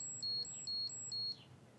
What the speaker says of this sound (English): Here we've got a project using the vibration sensor and a piezo buzzer.